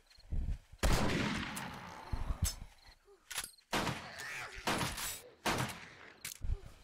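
Gunfire in the video game 7 Days to Die during multiplayer play: several sharp, loud shots and short bursts arrive at irregular intervals, with brief quiet gaps and some talk between them.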